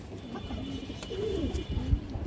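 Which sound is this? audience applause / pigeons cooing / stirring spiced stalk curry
pigeons cooing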